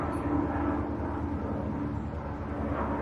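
A helicopter passes overhead outdoors as a steady, low rotor drone and engine hum that holds for the whole stretch, fairly loud and continuous with no talking over it.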